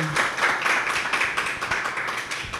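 Live audience clapping for a guest on a talk show, a close, dense patter of hands that holds steady for a couple of seconds.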